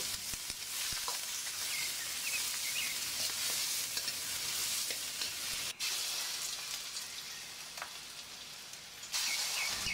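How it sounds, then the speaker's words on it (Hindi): Potatoes fry in hot oil while being stirred, a steady close sizzling hiss with occasional scraping clicks and a brief dip before the frying noise swells again. "आलू डालने के बाद हम इसको अच्छे तरीके से चलाते रहेंगे"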